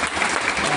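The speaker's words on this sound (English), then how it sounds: "Let's give him a big round of applause." Steady applause from an audience at an EdTech business talk, a dense, even wash of clapping that lasts the whole short moment.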